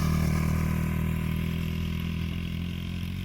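A 1995 Honda XR80 dirt bike with a new carburetor is being ridden; its engine gives a steady, buzzing drone at a moderate distance that eases off slightly toward the end.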